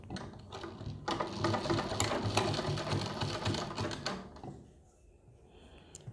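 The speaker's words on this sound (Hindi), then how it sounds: "अंदर की तरफ बुकरम के बराबर बराबर सिलाई लगाएंगे" A sewing machine runs a continuous stitching burst along the buckram lining of a kurti neckline, a rapid mechanical whir lasting a few seconds before slowing and stopping, close and fairly loud.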